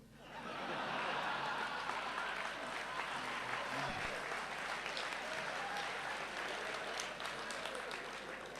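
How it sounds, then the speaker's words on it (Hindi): Steady applause from an audience at a Hindi comedic poetry recital, continuous and fairly dense rather than a few scattered claps, with faint chuckles mixed in throughout. "दो 3 लोग ताली बजा रहे हैं"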